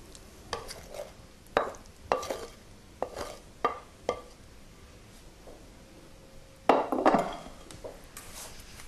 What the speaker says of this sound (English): And then we'll spread this over our browned onions.